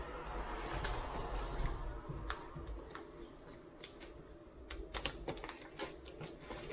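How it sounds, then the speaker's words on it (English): Cutting open a pepperoni package cover, a series of faint, sharp clicks and snips scattered irregularly over a quiet background, close by. "If I can cut the cover off."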